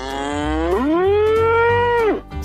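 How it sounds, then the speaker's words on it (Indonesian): A dairy calf, black and white, gives one long clear moo with a rising then falling tone, close and loud, near a livestock truck during loading at a cattle pickup. "Sangat lucu sekali anak sapinya."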